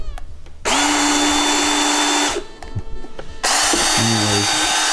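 A powered PEX crimp tool clamps a connection on a fire sprinkler system, heard as a loud, close motor whine that runs, stops briefly, then starts again with rising and shifting tones.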